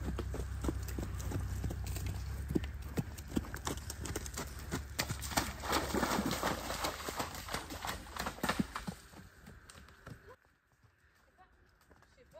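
A horse walking, its hooves clopping in an irregular series of hits over a rumbling background that fades near the end, leaving quiet.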